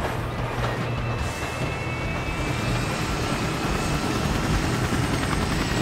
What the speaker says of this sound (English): Where's the chopper? Where is it? I found it. Okay, getting in. I'm in the chopper